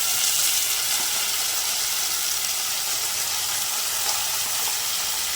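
Continuous bright sizzling of cucumber pieces frying in a pan, an even crackling hiss throughout with no voices.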